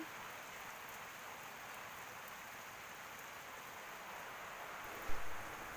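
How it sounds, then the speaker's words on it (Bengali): Rain falls outside in a green rural area of paddy fields, a soft, even hiss heard from a distance, with a brief thump near the end. "বাইরে দেখো এই যে বৃষ্টি হচ্ছে"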